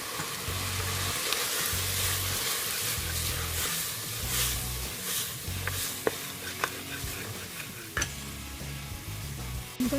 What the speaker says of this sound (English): I'm going to fry it 1 to 2 minutes.